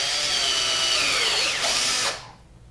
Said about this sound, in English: So now I'm going to drill a hole through my cap here